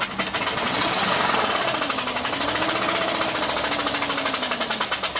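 A 2009 Chevy 3500HD with 421k miles, flooded and short on compression, cranks steadily without catching, its starter churning in a fast even rhythm that runs loud and close for the whole stretch.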